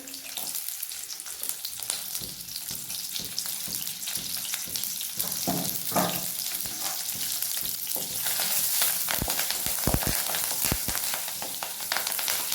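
Onions and curry leaves frying in hot oil for a beans fry, a steady close sizzle running throughout with a few brief stirring clatters near the end.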